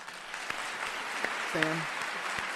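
Canned applause sound effect played during a live tech-news stream, a steady crowd-clapping texture throughout with a brief voice sounding partway through.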